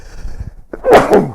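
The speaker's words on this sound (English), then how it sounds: "That's a sneeze." One person sneezes once, close and loud: a short quiet intake of breath followed by a sharp, explosive burst.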